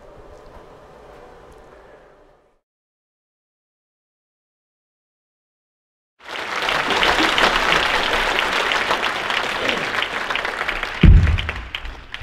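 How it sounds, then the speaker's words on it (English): After a short stretch of faint sound and a few seconds of silence, an audience at a church event breaks into dense, sustained applause that stays loud and steady to the end, with one heavy thump near the close. "We might need another round of applause for that video."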